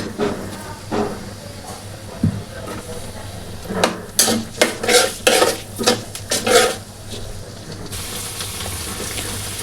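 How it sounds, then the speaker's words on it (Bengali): Chopped onion stirred in hot oil for egg fried rice: a low sizzle underneath as a spatula scrapes the pan in a run of rhythmic strokes, near and clear, with the hiss brightening at the end; no talk. "পেঁয়াজ কুচিটা দুই এক মিনিটের জন্য আমি তেলে গরম তেলে নেড়ে নিয়েছি"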